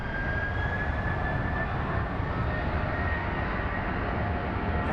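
An airliner takes off at Phoenix Sky Harbor airport, producing a constant, loud jet engine roar with no letup.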